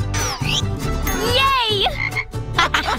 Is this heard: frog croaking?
yes